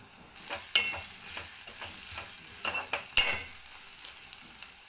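Curry leaves and ginger garlic paste fry in a pan for onion egg curry, a steady close sizzle broken by a few sharp utensil clinks and scrapes as the mixture is stirred.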